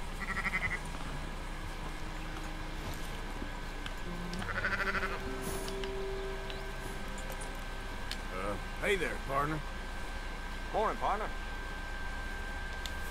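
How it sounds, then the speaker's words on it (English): A flock of sheep in Red Dead Redemption 2 bleats in scattered calls over a steady game ambience, with several wavering bleats clustered near the end and a voice talking at points. "you have a man with a flock of sheep"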